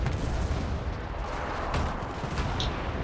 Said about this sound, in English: that point just got strafed so badly